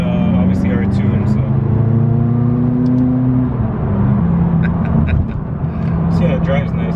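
Straight-piped, tuned 650 hp McLaren 570S sports car with downpipes, its loud exhaust droning steadily while driving, with rising and falling engine tones under ongoing conversation from people inside the car.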